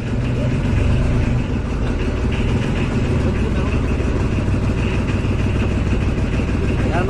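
A small fishing boat's engine runs near an island, a loud, constant droning rumble that holds steady from start to finish.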